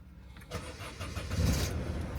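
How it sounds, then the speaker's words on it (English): A Citroen Berlingo's engine is cranked in a starting attempt, a short burst of churning mechanical turnover rising after a quiet moment and running rough to the end, close and fairly loud. "Maybe we try starting it again."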